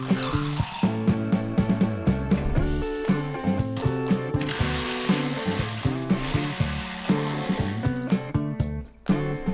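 Rapid ratcheting clicks from a hand wrench removing rear brake bolts on a Mazda 3 repeat in quick bursts, close and mechanical, with short pauses between strokes.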